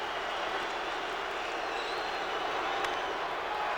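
Dense crowd roar fills a baseball stadium in Montreal at an Expos game against the Braves, a steady wash of cheering and applause that swells slightly without break.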